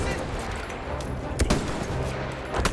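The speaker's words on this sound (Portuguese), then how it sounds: "eu vou jogar uma bomba aqui pra gente ver os efeitos certinho" A bomb goes off in a PC video game, giving a few sharp blasts and crackling bursts over a dense background rumble, with a voice speaking alongside.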